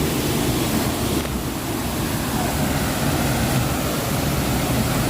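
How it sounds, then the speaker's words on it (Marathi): Water from the Bhima river pours at Gupt Bhimashankar, a dense, unbroken rushing roar like a small waterfall, loud and close throughout, with no voices. "इथे जे पाणी पडतंय बरोबर खालीच शिवलिंग आहे"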